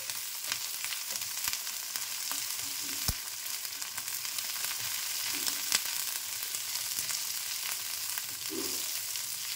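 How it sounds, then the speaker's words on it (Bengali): Chunks of bottle gourd fry in a pan with a soft, continuous hiss and sizzle, close but fairly quiet, broken by occasional sharp pops and light clicks of stirring and no one talking. "লাউগুলো খুব ভালোভাবে ভেজে দিচ্ছি।"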